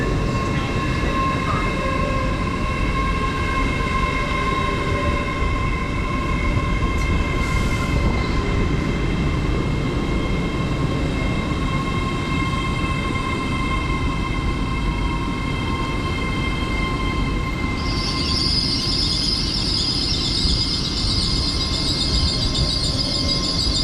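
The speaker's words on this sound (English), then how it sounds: "And arriving is the 11:30 service to Leeds." A train pulls into Newark North Gate station with a steady, loud rolling rumble and a constant tonal whine. A higher-pitched hiss joins near the end as it slows alongside the platform.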